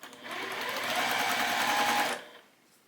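A sewing machine stitches a row of a quilted berry block in one steady, close run of motor whir lasting about two seconds, then stops abruptly with a faint tail.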